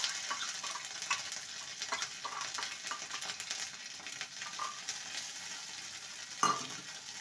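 Ginger garlic paste fries with onion in a pan, a quiet steady sizzle broken by occasional scrapes and knocks of the stirring spoon, with one sharper clink near the end.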